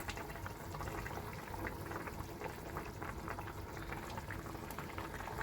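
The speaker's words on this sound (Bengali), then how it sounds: "ঝোলটা আমার ফুটে গেছে, এখন ভেজে রাখা মাছগুলো আমি সব দিয়ে দেবো এক এক করে" Fish curry broth boiling vigorously in a pot, a loud, continuous bubbling and spluttering that stays steady throughout with no voices.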